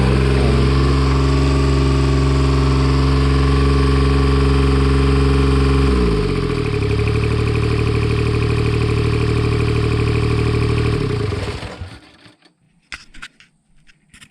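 A John Deere 430 diesel lawn tractor engine runs steadily with a loud, droning, low rumble that shifts to a different idle note midway, then cuts off, leaving a few faint clicks and knocks.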